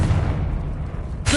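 A Confringo fire spell blasts in a video game, a dense, booming burst of low rumble that holds steady for over a second before a sharper crackling flare at the end, loud and with no talk.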